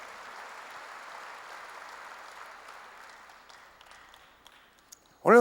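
Church congregation clapping during a Korean sermon, a soft crowd applause that slowly thins and fades out before a speaking voice abruptly takes over at the very end.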